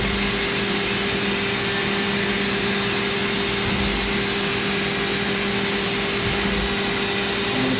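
A milling machine with a 7/10mm cutter cuts bosses on a workpiece. It makes a loud, steady machining roar with a constant tonal hum running underneath, continuous from start to finish.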